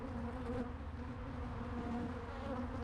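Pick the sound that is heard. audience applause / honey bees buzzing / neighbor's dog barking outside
honey bees buzzing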